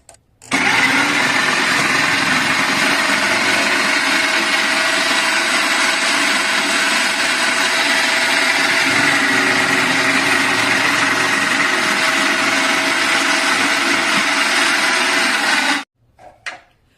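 A food processor runs continuously for about fifteen seconds while chopping snake gourd, giving a loud, steady motor whir with a blade chop. It starts abruptly, stops abruptly, and no one speaks.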